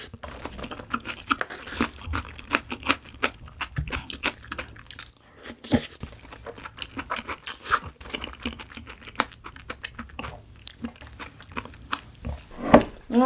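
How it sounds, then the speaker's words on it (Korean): Marinated crab, boneless soy-sauce and spicy gejang, being chewed close up in wet bites and crunches across the whole stretch, with scattered clicks and smacks and no talk. "게장 다 먹겠네."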